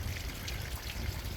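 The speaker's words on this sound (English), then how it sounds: "I'm right by this little waterfall here" Small waterfall flowing at a riverside spot in Hope, BC, heard as a steady soft wash of splashing water, faint and continuous with no voices.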